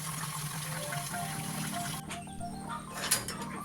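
Water runs and trickles steadily, close by, filling bathing water for ducks, with a gurgling shift partway through and a faint splash near the end.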